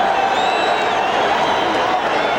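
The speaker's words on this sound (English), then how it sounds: "There is a lot of booing going on." Boxing arena crowd at the Marvin Hagler vs. Vito Antuofermo middleweight title rematch, booing in a dense, loud, sustained roar with no break.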